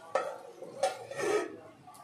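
Lid knocked onto a cooking pot of kochur lati (taro stolons), giving a few separate metallic clatters, the middle one loudest and ringing briefly, close and fairly quiet with no voices.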